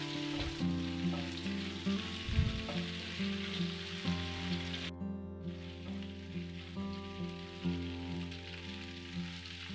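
Macaroni pasta frying in a pan with tomato sauce and egg, a steady close sizzle that runs throughout, with soft scraping as it is stirred.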